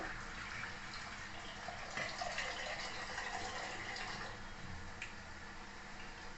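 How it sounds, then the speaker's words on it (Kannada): Water pours into a mixer jar in a home kitchen, a soft continuous trickling splash, faint and steady, with a small clink near the end and no voices. "ಜಾರ್ಗೆ ಸ್ವಲ್ಪ ನೀರು ಹಾಕ್ಕೊಂಡು"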